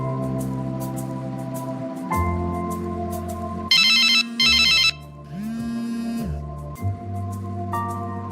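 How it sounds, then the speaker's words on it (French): A telephone rings at night with a bright electronic ringtone in two short loud bursts, heard over a soft musical backdrop with low tones and no one speaking. "Qui t'appelle à cette heure de la nuit?"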